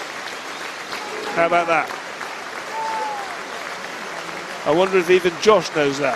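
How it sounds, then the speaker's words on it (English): Leigh Leopards fans applaud in the stadium during a rugby league match against Huddersfield Giants, a steady distant clapping spread through the crowd while a commentator talks over it. "Applause here in the 69th minute for Clive Render, a Leigh club stalwart who suddenly passed away very recently, and the Leigh Leopards fans showing their appreciation for Clive."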